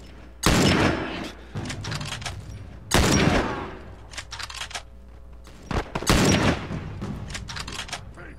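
Gunfire in The Last of Us, loud bursts of rapid shots in three main volleys with scattered single cracks between them, close and punchy, and no speech over the shooting.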